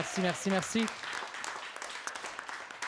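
A comedy-show audience claps in a crackling round of applause that fades slightly, following brief talk from a voice at the start.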